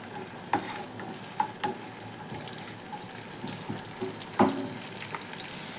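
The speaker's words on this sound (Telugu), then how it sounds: "ఇందులో మనము కట్ చేసి పెట్టుకున్న ఆనియన్స్ అన్నీ వేసుకోవాలి. ఆనియన్స్ వేసేసాను. ఇవి బాగా ఫ్రై అవ్వాలి." Chopped onions frying in oil in a pan give a steady broadband sizzle throughout, broken by a few sharp clinks of a utensil against the pan, one louder near the end.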